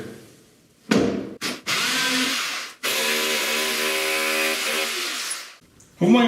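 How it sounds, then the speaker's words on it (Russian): A power drill bores a hole through drywall into the wall behind it while a fireplace surround is being finished. Two short bursts come first, then a loud, steady whine for several seconds, up close, with no talking. "Для этого просто засверлим отверстие и забиваем дюбель-гвозди."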